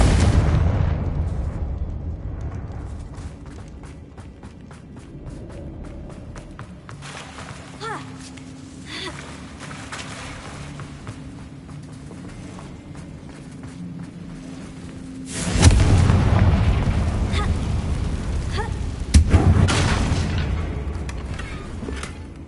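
Confringo spell in Hogwarts Legacy blasting a damaged bridge: a low rumbling game ambience breaks into a sudden loud explosive boom with rolling debris and a second burst, a voice calling out beforehand.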